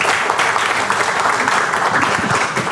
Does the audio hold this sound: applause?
yes